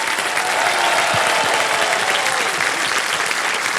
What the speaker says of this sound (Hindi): फास्टेस्ट फिंगर फर्स्ट के साथ तालियां बजती रहें इनके लिए।